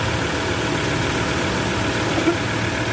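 Ford Ranger 3.2 engine running with a faulty alternator overrunning clutch pulley, heard close as a steady grinding drone over the idle, with one small knock near the end.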